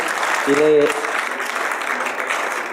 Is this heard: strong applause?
yes